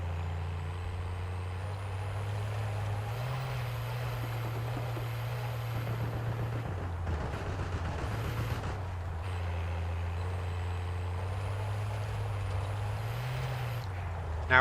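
A truck in the video game Call of Duty: Warzone drives with a steady engine drone that rises and falls as it shifts, with brief rattling bursts midway, moderately loud and heard alone.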